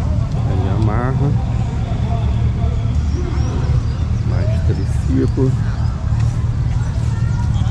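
Steady engine rumble of motorcycles idling and revving nearby at a motorcycle rally, with a person talking over the low mechanical drone.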